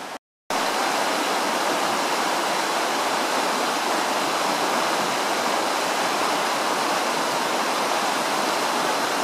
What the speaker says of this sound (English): here we have the river by here